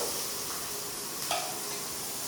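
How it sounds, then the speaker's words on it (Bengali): Onions fry in a pan with a steady, dense hiss and crackle close by, broken by one brief scrape of a spatula stirring them. No voices are heard. "এইবার পেঁয়াজ, পেঁয়াজটা একটু ফ্রাই হোক"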